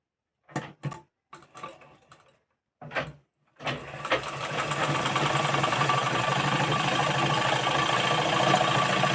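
A sewing machine stitching a blouse starts with a few short separate bursts, then runs into a fast steady mechanical whirr with rapid needle clatter, loud and close, with no talk.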